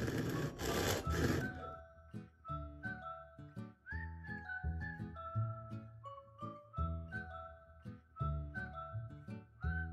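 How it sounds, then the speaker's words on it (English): A Japanese flush cut saw works through a wooden cigar box. Short, rhythmic strokes carry squeaky, whistling tones, quiet and close, after a brief burst of rougher noise at the start, with no talking. "I'm gonna use this Japanese flush cut saw"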